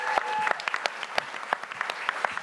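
Applause from a small audience at a presentation event for a presenter, a crisp, moderately close patter of individual claps at an uneven rhythm throughout.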